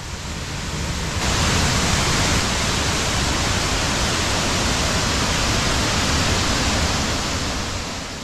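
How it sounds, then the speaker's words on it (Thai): Huai Sai Lueang waterfall in Doi Inthanon National Park during the rainy season, a loud, steady, broadband roar of falling water that holds unbroken throughout with no voices. "น้ำตกห้วยทรายเหลืองอุทยานแห่งชาติดอยอินทนนท์จังหวัดเชียงใหม่ครับ"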